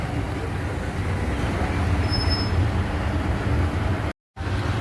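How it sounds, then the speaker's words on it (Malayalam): A train rumbles steadily through Salerno railway station in Italy, a loud continuous roar of wheels and rolling stock with a faint high squeal, then cut off by a brief dropout. "അപ്പോൾ ഇത് സലർണോ റെയിൽവേ സ്റ്റേഷൻ ഇവിടെ നിന്നാണ്"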